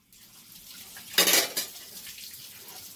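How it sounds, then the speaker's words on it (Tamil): A single clattering metal clank of a pressure cooker lid being set in place, fairly close, with a brief rattle afterward and no talking. "இப்போ குக்கர் மூடியை போட்டு"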